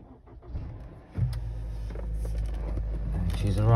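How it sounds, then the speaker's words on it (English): A 2018 Honda Accord engine cranks and catches about a second in, then settles into a steady close idle with a slight rise in revs toward the end. "Okay, and we'll try to start the car."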